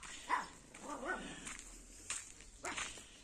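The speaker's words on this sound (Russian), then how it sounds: "как же ж эти собачки, мне уже надоели, что они лают" Several dogs barking in a rural garden where herbs are being dried, irregular barks at moderate distance against a quiet outdoor background.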